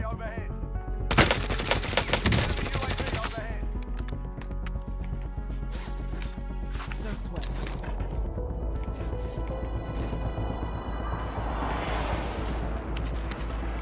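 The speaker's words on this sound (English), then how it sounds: "I'm now running out of ammo because I'm shooting so much AR" Rapid bursts of assault rifle fire in Call of Duty: Warzone, with a loud dense volley near the start, then steady game sounds and lighter shots continuing underneath.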